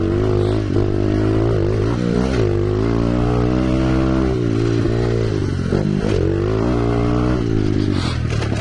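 Dirt bike ridden hard on a motocross track, its engine loud and close, revving up and down in rising and falling surges with constant throttle changes.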